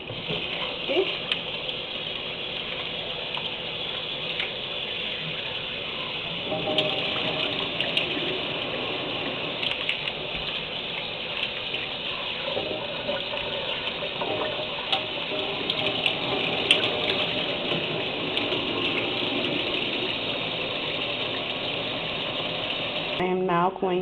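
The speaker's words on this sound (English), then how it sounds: "I'm going to rinse it out" Cold tap water runs steadily into a sink as chopped pork is rinsed, a continuous close gush with light clatter and handling noises throughout.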